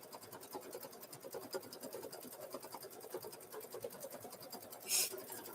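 An embroidery machine stitching free standing lace in a 4x4 hoop, a fast, even mechanical needle rhythm humming steadily at moderate distance, with a brief brighter burst near the end.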